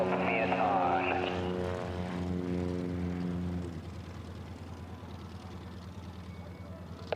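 A yellow Husky airplane with a constant speed propeller races at the National Championship Air Races in Roswell, New Mexico, its steady propeller drone humming close, then dropping in pitch and easing off partway through, while people talk over it.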